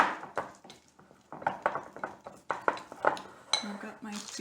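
Toffee pieces being stirred into batter in a bowl for Christmas baking, giving a run of scraping and clinking utensil strokes against the bowl, close and moderately loud, with a few quiet voice sounds between them.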